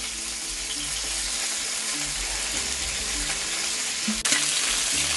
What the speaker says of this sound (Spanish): Aquí ya sellé el pollo y ahorita voy a sellar también las papas para ponérselas encima.